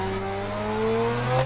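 A car engine hums steadily at a fairly constant pitch, close by, with a slight rise toward the end before it cuts off.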